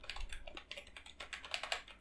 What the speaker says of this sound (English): I'm mashing all of my keys, but nothing is happening.